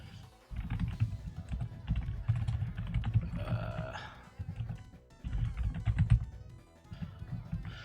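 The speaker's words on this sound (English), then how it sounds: "I was typing out Electabuzz" Computer keyboard typing during a Battle Arcade Singles run, a busy stream of keystrokes mixed under steady game music that continues throughout.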